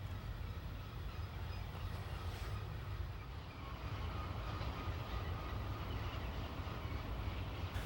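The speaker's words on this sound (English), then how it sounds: "Coming west through Cajon Pass is another container train." A BNSF container train rolls westbound through Cajon Pass, a steady, fairly distant rumble of railcars with faint rhythmic wheel noise, sustained throughout without voices.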